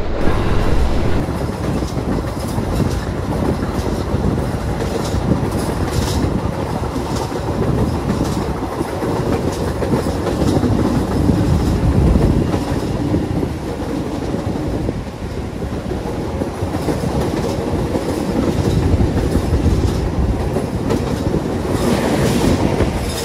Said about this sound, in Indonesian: bener-bener kerasa banget ya gelodak-gelodaknya New Image. Apalagi pas dibawa ngebut